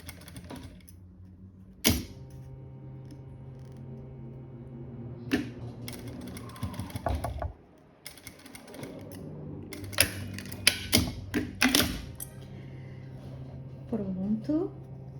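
A sewing machine stitching bias binding onto fabric, bursts of rapid mechanical clatter separated by pauses, with a voice talking in between.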